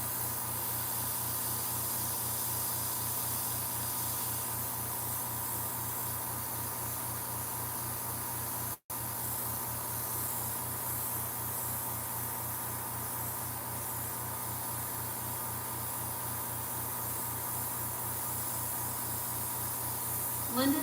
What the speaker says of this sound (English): airbrushing.